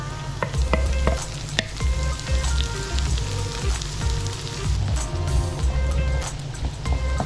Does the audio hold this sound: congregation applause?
no